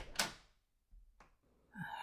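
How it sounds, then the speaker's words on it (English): A quiet indoor door being opened, heard as a soft click and thunk, then a faint second knock after a pause, with a gentle creaking swing at the end, all close and hushed. "I'm opening the door on the count of 3."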